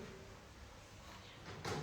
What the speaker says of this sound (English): Nihal, before we start, Nihal, may I ask you to please close the door?